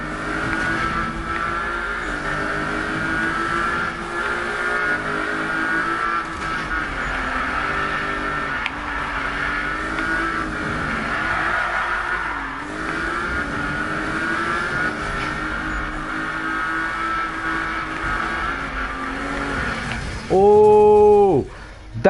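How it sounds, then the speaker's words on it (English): Street racing car engine in the 2015 Need for Speed video game drones and revs steadily with shifting pitch throughout, loud and close, ending in a brief sharp burst of higher engine whine. "I love the challenge of the street racing."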